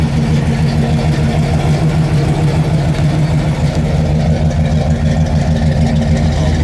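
The engine of a 1965 Pontiac LeMans convertible built as a GTO tribute idles with headers and dual exhaust, a loud, close, steady low rumble that holds evenly throughout with no talking.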